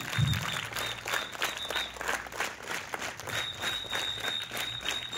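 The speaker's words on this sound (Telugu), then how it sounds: "ఒక్కసారి మనస్ఫూర్తిగా చప్పట్లతో శుభాకాంక్షలు అమ్మవారికి తెలియజేస్తున్నా కోరుతా ఉన్నాను" Audience applause at a women teachers' day event, a dense steady wash of many hands clapping for the full stretch at moderate distance, with a few brief voices and shuffling mixed in.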